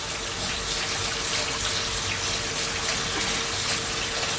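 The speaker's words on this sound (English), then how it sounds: "So I'm going to pour them in this little colander here and just kind of rinse them real" Blueberries being rinsed in a colander under a running kitchen tap, a steady, close, loud rush and patter of water that continues throughout without a break.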